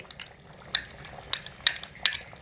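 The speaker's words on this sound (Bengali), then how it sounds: "এখানে কিছুটা পরিমাণে ঘি নিয়ে নিয়েছি, মোটামুটি 4 চামচের 1 চামচ মতো ঘিটা এখানে দিয়ে দেব খিচুড়ির মধ্যে" A spoon clinks and scrapes against a pot as ghee is added and stirred into khichuri, a few sharp metallic taps over a soft, quiet background.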